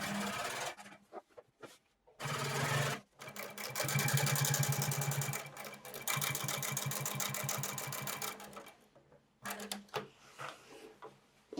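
A sewing machine topstitches a second row on denim jeans, a steady, close mechanical whir and rapid clatter that runs for several seconds between short pauses.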